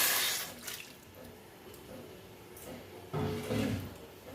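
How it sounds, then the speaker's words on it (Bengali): Water is poured briefly into a pan holding small fish and tomato, a soft splash and trickle close by with kitchen clatter around it. "সামান্য জল দিচ্ছি"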